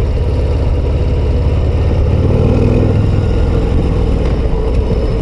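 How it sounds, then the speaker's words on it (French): Harley-Davidson Road Glide ST bagger with a 117 V-twin engine, a heavy, low-slung motorcycle on the road, its steady low rumble running continuously and loud throughout under rushing wind, with no one talking. "c'est un moteur quand même souple là, pour un bicylindre"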